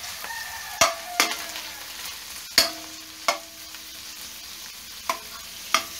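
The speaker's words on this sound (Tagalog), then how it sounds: "Gigisa nyo muna siya sa mantika." Garlic, onion and ginger sautéing in oil for chicken tinola, a steady low sizzle broken by several sharp clacks of a utensil stirring against the pan, fairly close and without voices.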